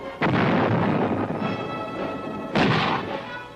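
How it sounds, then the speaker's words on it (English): Vietnam War artillery fire pounding a hill during an assault: two heavy, loud booms with long rumbling decay, the second following about two seconds after the first. "Artillery."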